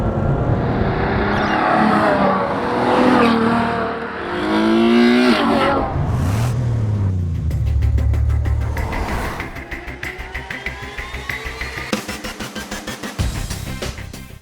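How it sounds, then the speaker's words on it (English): A Ferrari GTC4 Lusso's naturally aspirated V12 revs hard and close, climbing through gears with sharp upshifts, then settles into a steadier, pulsing drone toward the end; no one speaks. "This is the Ferrari GTC4 Lusso, and it's long, very long."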